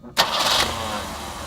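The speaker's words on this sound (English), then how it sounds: "run the engine for several minutes so that it gets all the way through the fuel system" An engine being run after fuel treatment is added for storage cranks and catches abruptly, then settles into a steady, close running roar that eases slightly as it continues, with no voices over it.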